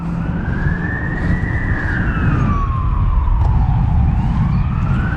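An ambulance siren wails, rising and falling over a rumble of traffic, fairly close and loud, with no voices.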